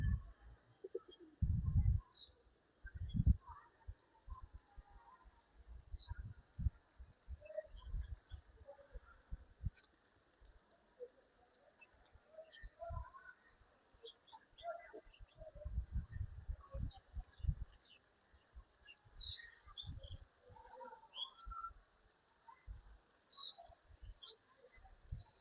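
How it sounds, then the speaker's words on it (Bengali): Pigeons coo softly and repeatedly at the Loknath Brahmachari ashram in Baradi, low murmuring calls in intermittent bursts amid faint chirps of other birds in a quiet outdoor setting. "বাবা লোকনাথের এখানেও কবুতর থাকে"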